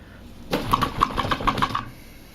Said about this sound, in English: I'm going to shake this sleeved deck of Munchkin treasure cards for 2 seconds